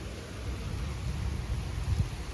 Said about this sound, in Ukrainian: пахне дощиком, гримить гром